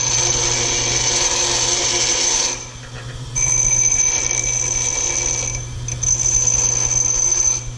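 A disc sander or pedestal grinder deburring metal gives a loud, steady motor whine with a high grinding ring, easing off briefly twice and then resuming close up.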